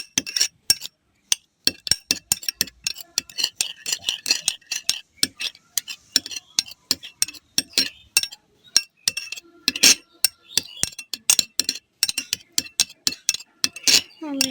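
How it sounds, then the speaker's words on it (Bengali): Metal spoon clinking against a bowl while mixing potato sandwich filling, a steady run of quick, sharp taps and scrapes at close range, fairly quiet with no talking. "আমি এই দুটাকে ভালোভাবে মিক্স করে নিচ্ছি।"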